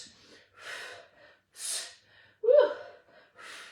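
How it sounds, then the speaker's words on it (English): Heavy breathing during a posture workout of prone lat pulls: five distinct breaths and exhales in a steady rhythm, close and fairly quiet, the fourth a sharper gasp. "Make sure you're breathing. Exhale."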